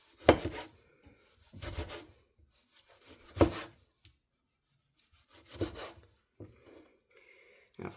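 A knife slices tomatoes on a wooden cutting board while rouladen are being prepared, four or five separate rasping cuts spread out with quiet pauses between them.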